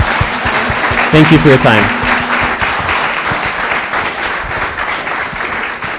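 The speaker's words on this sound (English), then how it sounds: "Let's give Team A, the A team, a round of applause." Sustained crowd applause fills a hall for a competition team at the 2017 Milgard Invitational Case Competition on Social Responsibility, with a person briefly speaking over the clapping.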